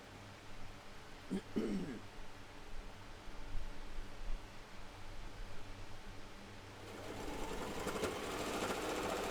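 A home sewing machine without a walking foot stitching through bulky seams of a potato chip twist project, a steady mechanical whirr running in short stretches and then continuously near the end, close and fairly quiet.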